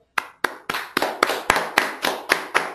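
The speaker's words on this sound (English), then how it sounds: "A small round of applause for Purvak." About ten slow, distinct hand claps in a quiet classroom, evenly spaced and close, giving a small, sparse round of applause for a student.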